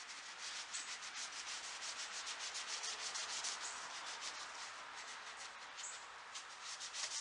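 A cloth buffs dark wax off a heavily carved oak high-back chair, making a soft, quiet, rhythmic rubbing in quick repeated strokes with no voices.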